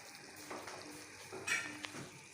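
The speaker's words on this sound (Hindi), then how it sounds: "अब ये बॉयल किए हुए चने इसमें ऐड कर रहे हैं।" Boiled chickpeas tipped into a pan of frying green chole keema, giving a soft, low sizzle with light scraping and stirring noises, fairly quiet and close.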